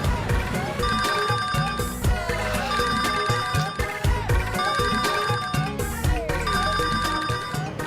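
A mobile phone ringtone plays a repeating bright melodic pattern in four even cycles, loud and continuous, in a drama scene.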